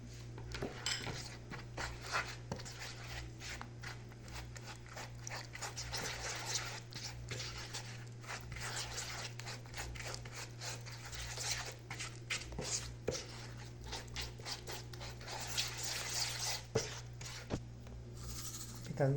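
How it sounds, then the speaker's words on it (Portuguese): A utensil scrapes and taps steadily around a bowl as butter and three eggs are mixed into cake batter, close and fairly quiet over a low, constant background hum. "Vou misturar bem."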